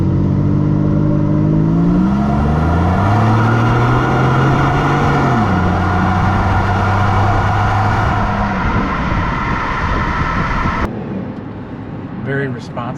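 A 1998 Chevrolet Monte Carlo Z34 with its 3.8 liter engine revving, a loud rising and falling engine note held for several seconds before cutting off abruptly, then quieter idle.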